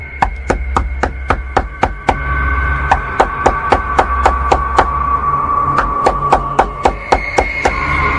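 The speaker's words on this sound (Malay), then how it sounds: "orang ketuk pintu?" Rapid series of sharp knocks on a door, about three per second in bursts with brief pauses, loud and close over a steady low hum, with no talking.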